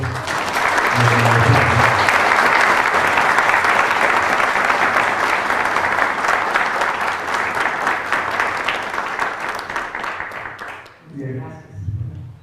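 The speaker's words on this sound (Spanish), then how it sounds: "no me queda más que pedir a toda la audiencia, ofrecerle un fuerte aplauso" An audience at an academic lecture on the Andean calendar gives a loud, sustained round of applause lasting about eleven seconds, then fading out as a voice begins to speak.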